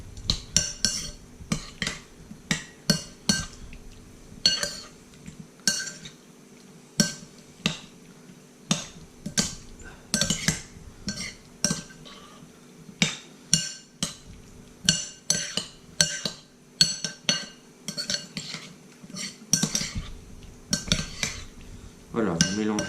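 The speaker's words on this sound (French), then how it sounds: "Vous allez mettre tout ça dans votre salade, dans vos tentacules coupés en tronçons, et vous allez venir mélanger." Utensils clatter and scrape repeatedly against a bowl as an octopus salad with chopped tentacles is tossed and mixed, with sharp close clinks coming in quick, irregular bursts and no talking.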